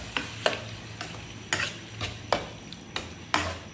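Macaroni with ketchup is stirred in a pan: a regular run of scraping strokes against the metal, about one every half second, over a soft background sizzle.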